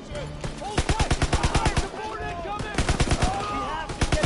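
Rapid automatic gunfire from Call of Duty zombies mode rattles off in loud, tightly spaced bursts, with short pauses between volleys and a few spoken remarks underneath.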